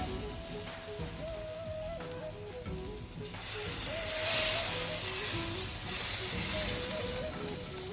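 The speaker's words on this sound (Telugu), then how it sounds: "పిండి బాగా కలుపుకొని దోశలు వేసుకోవాలి." Rava dosa batter sizzles steadily on an oiled pan, a close continuous hiss that swells louder midway, with faint tonal background sounds beneath.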